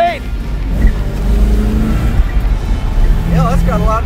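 A car engine running and accelerating, a loud throaty rumble that rises and falls in pitch as it revs, with people talking and exclaiming over it.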